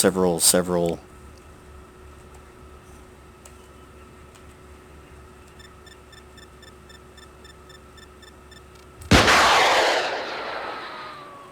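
A tank fires a shell in the video game Total War: Modern Warfare: a single loud, close blast with a long rumbling decay, preceded by a few seconds of quiet with faint ticking and a brief muffled burst at the very start.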